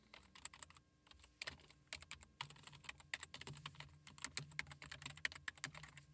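Fast, light keystrokes on a computer keyboard while a web address is entered, irregular bursts of clicking close by with short pauses between runs.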